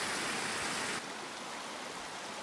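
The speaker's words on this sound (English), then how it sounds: "Check out that waterfall over there." Waterfall at the headwaters of the South Breitenbush River below Park Ridge, a steady broadband rush of falling water heard from a short distance, loud and continuous with no voices.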